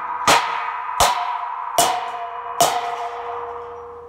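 Four loud hammer blows land on a steel carport post at a steady pace, each one a sharp metallic clang with a long ringing tone that fades slowly afterward, and no voices.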